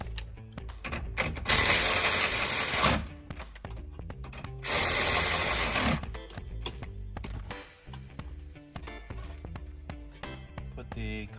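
Ratchet wrench tightening the main positive and negative high-voltage cable nuts on a Toyota Prius hybrid battery, two bursts of rapid clicking close up with quieter clanks and handling between them.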